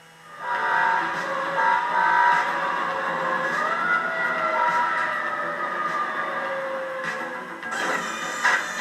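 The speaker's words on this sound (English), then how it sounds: "That's the main siren that you hear most of the time." A fire engine siren wails steadily nearby, its pitch gliding and holding in a continuous electronic tone, with a sharper burst near the end.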